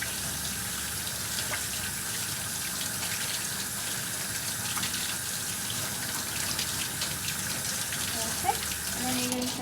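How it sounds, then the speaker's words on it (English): Tap water runs in a steady, even rush as hands are rinsed under the faucet, a constant hiss that holds level for about ten seconds with only a brief knock near the end. "Then you're going to rinse them out."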